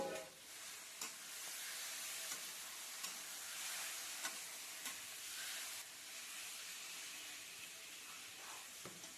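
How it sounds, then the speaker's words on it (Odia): Marinated chicken and browned onions fry in a pan with a steady, bright sizzle and hiss, broken by occasional stirring scrapes and clicks, with no voices. "ପିଆଜ ବ୍ରାଉନ୍ କଲର୍ ହେଲା ପରେ ସେଥିରେ ମ୍ୟାରିନେଟ୍ କରି ରଖିଥିବା ଚିକେନ୍କୁ ଆଡ଼୍ କରି ନେବା।"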